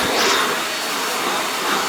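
A Shark Navigator NV22L upright vacuum cleaner runs with a loud, continuous whooshing motor roar throughout, heard close up with no speech.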